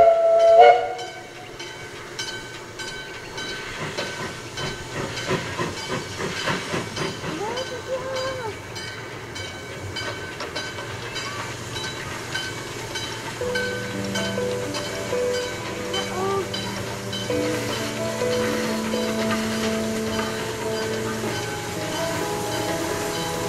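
An Ng15 steam locomotive pulling away, with a rising rumble of rail wheels and running gear, whistle tones sounding near the start and again later, heard at moderate distance and steady throughout.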